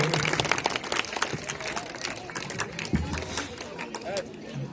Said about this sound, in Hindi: इनके लिए जोरदार तालियों से का स्वागत करें